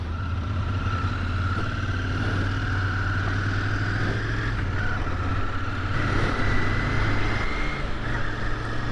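Royal Enfield naked motorcycle engine drones steadily while riding, a constant low hum with a faint rising whine as the throttle opens, wind rush mixed in throughout.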